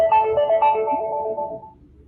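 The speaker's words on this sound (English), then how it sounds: "oh, that's my phone." A phone ringtone plays a short, loud melodic sequence of bright tones close by, then fades out toward the end with no talk over it.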